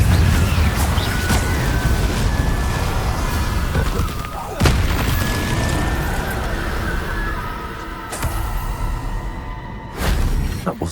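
Confringo spell explosions in Hogwarts Legacy, a few heavy booming blasts spread across a noisy, rumbling combat scene, loud and close, with a voice briefly heard amid the fighting.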